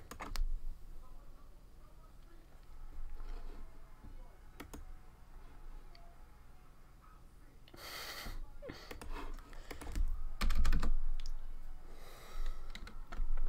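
Scattered clicks of typing on a computer keyboard come at an irregular pace, close and faint, with sniffs and breathing in between and a louder cluster of taps near the end.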